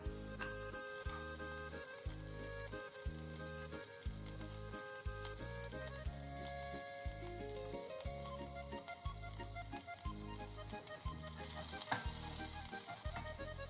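Butter, onion and garlic sizzle steadily in a hot pan, a close, continuous crackling fry that holds at an even level throughout, with a low rhythmic tonal pattern running beneath it.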